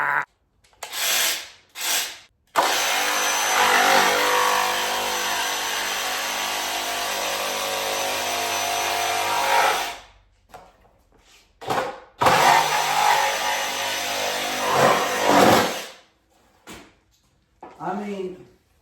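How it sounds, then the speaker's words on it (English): A power tool cuts into a motorcycle fender with two long, harsh grinding passes separated by short stop-start bursts and brief pauses, close and fairly loud. "we got to do a little fender chopping."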